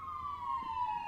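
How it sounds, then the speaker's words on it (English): An ambulance siren wails in a steady, slowly falling tone as it passes at moderate distance, heard alone without talk. "The ambulance just went by."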